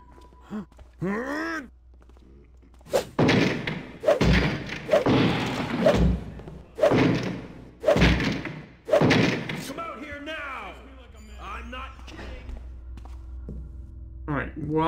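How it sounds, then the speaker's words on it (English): A sword hacking wooden boards in the stealth video game Thief: a series of heavy, evenly spaced thuds and cracks, loud and close, with grunts and a voice talking between and after the blows. "I would love to use my sword on these boards, but I will alert everybody within a wide radius if I do so."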